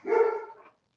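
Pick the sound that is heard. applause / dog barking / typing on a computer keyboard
dog barking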